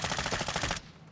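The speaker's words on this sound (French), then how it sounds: "Ah, y'a un sniper qui me vise" Rapid burst of automatic gunfire in the shooter Warzone, about a dozen quick evenly spaced shots that stop abruptly, leaving a faint hiss.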